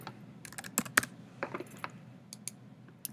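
Typing on a computer keyboard while sharing a folder online, a run of scattered light clicks and key taps close to the mic, irregular in rhythm over a low steady room hum, with no voices.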